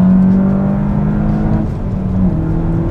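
A 2016 Volkswagen Golf GTI Clubsport engine hums loud and steady from inside, a sustained drone that dips slightly and then rises again in pitch over a few seconds, with no one talking.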